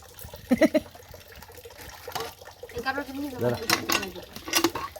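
Fish pieces being washed in a bowl of water: light splashing, trickling and clinking of the bowl close by, with people talking over it.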